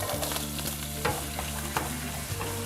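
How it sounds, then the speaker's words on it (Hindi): Chopped onions sautéing in melted butter in a frying pan, a steady close sizzle with occasional stirring scrapes, no voices. "अब हम इसमें चॉप किया हुआ जो हमारा प्याज था वो ऐड करेंगे।"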